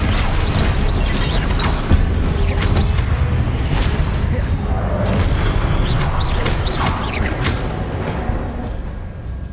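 Expelliarmus cast in Hogwarts Legacy brings dense, loud magical whooshes and crackling bursts layered over a rumbling low game backdrop, repeating in quick flashes throughout.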